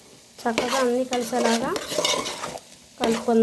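A ladle stirs mutton gravy curry with chilli powder in a pan, producing loud, close, squeaky tonal scrapes in several bursts over a soft background sizzle.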